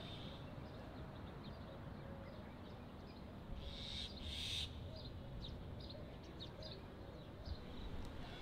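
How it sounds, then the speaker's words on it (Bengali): Birds call inside the National Museum of Qatar, faint hooting and chirping notes scattered over a quiet, steady indoor background, with a brief louder burst of calls midway. "ভিতরে কিন্তু পাখি ডাকাডাকি করতেছে।"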